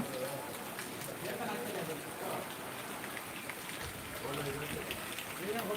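Rain pours steadily outdoors the day after Diwali, rainwater running in a continuous hiss of drops on surfaces, with a voice talking faintly over it.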